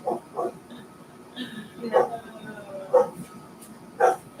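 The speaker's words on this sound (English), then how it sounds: "Doggies barking." Dogs bark in short, separate yips and woofs at a moderate distance, about five or six spaced barks against a quiet background, with faint talk in between.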